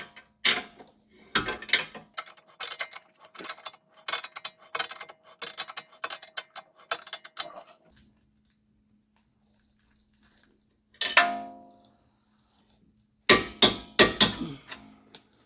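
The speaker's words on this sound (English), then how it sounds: "the ball joint nut we can go ahead and torque all the way down" A ratcheting wrench tightens a ball joint nut on a 2019+ BMW X7 G07 front suspension, giving close bursts of rapid clicking with a pause, then a short metallic ratchet run and a final burst of clicks.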